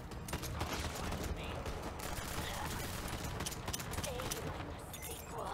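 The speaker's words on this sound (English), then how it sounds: "Just follow the gunshots." Dense, continuous gunfire in the video game Borderlands 3 crackles in rapid bursts, loud and sustained throughout with no pauses.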